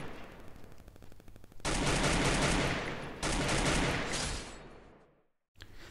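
A scoped weapon fires in the mobile shooter game Free Fire: loud, dense bursts of gunfire, a long sustained volley that then fades into a brief silence, with no talk.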